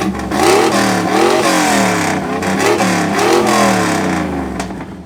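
1982 Pontiac Trans Am engine revved in neutral at an exhaust competition, loud and close, the note climbing and falling in repeated surges over about five seconds.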